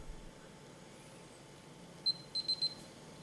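A Yi Lite action camera sounds its start-recording signal: one short high beep followed by a quick cluster of three more, faint and close over a quiet background hiss.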